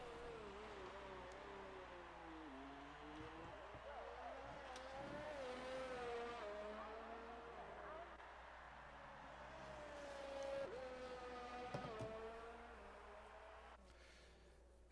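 A race car in an Xbox racing game screams down the pit straight at over 200 mph. Its engine whines steadily and climbs through upshifts, faint and continuous throughout, with no talk.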